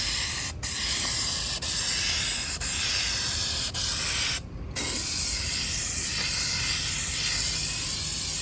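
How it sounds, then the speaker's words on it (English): A steady, loud hiss of a spray paint can held close, running nearly continuously with a few brief gaps where the nozzle is released, painting a 1960s Craftsman two-drawer tool box. "Look at how much nicer it's spraying."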